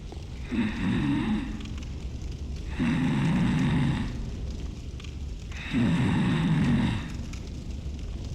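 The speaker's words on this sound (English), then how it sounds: "Just a bunch of snoring noises coming from him." Three slow, loud snores, each a long rasping inhale about a second apart, separated by quieter breathing over a steady background hum.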